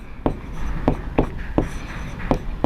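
Chalk or marker strokes on a board while a class 10 maths solution is written out, a series of about seven short sharp taps and scrapes at an irregular rhythm, close and clear, without talking.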